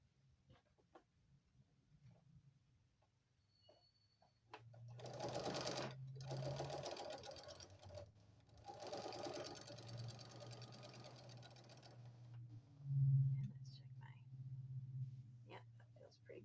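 A sewing machine stitching fleece binding in two bursts of quick, close mechanical whirring, separated by a short pause and followed by a brief thump, with quiet handling noises and soft talk in between.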